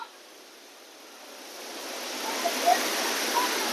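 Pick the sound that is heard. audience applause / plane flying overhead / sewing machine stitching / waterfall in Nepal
waterfall in Nepal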